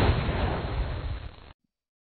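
A helium bomb goes off in an addictive flash game, a loud, rumbling blast that fills about a second and a half and then cuts off abruptly into silence.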